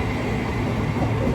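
A Thameslink Class 700 electric train, unit 700 036, pulls into a London terminus with a steady, loud low rumble and rolling wheel noise close by, no voices.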